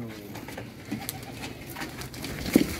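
Parwazi flying pigeons of the Teddy type give low, soft coos amid faint rustling and background noise, fairly close, with no talking.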